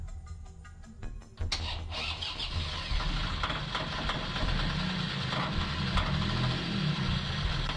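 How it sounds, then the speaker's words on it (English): A diesel boat engine is cranked and catches after about a second and a half, then settles into a steady, fairly loud idling hum with a little mechanical clatter. "When the engine's fired and humming away,"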